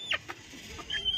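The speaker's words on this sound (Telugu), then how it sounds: "గిరిరాజ పుంజు ఆడి బాపతే వస్తున్నాయి" Giriraja chickens, hens and roosters, give a couple of brief, faint clucks and squawks at close range in a quiet shed.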